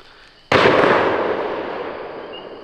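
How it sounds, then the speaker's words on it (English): A single loud rifle shot cracks out during a nighttime raccoon hunt, then a long fading echo rolls away for about two seconds. "We're shooting a raccoon."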